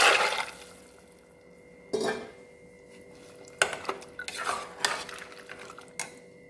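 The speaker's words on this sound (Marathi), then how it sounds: "आता यामध्ये मी हे पाण्यासह हे राजमा हा सगळा घालून" Rajma beans poured with their water into a pot of sautéed onion-tomato masala, with several clattering splashes and metallic scrapes of stirring against the pot, close and fairly loud.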